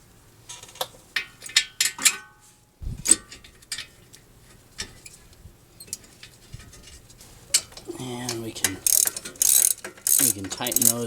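Ratchet wrench tightening the brake caliper mounting bracket bolts on a 2002 Toyota Camry, with rapid clicking pawl bursts and metallic tool handling close by, plus some brief soft voice sounds.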